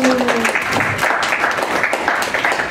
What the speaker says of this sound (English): Please give guys a round of applause, please.